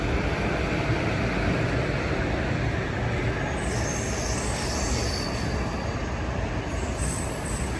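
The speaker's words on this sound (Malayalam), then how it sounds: "ഇവിടെ 3-ാം നമ്പർ പ്ലാറ്റ്ഫോമിൽ മംഗളൂരു തിരുവനന്തപുരം എക്സ്പ്രസ് വന്നിട്ടുണ്ട്." A Mangaluru–Thiruvananthapuram Express stands at a station platform, giving a steady loud rumble of railway cars with faint wheel squeal and clatter throughout, and no voices.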